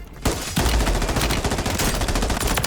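Rapid automatic gunfire in the shooter game Warzone, with a sharp opening shot and then a loud, dense burst of sustained firing close by, no talking over it.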